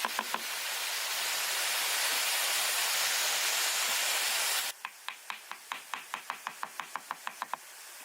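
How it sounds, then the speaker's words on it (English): After a long stretch of loud hissing noise, a knife chops rapidly on a board, a quickening run of crisp, close knocks. "The sound of knives on boards resonates rhythmically"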